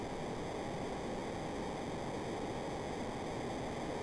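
A flood of water washes over everything in Chrono Trigger, heard as a steady, dense rushing roar like surf or a waterfall, constant and unbroken, with no voices.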